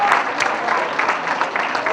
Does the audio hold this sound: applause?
yes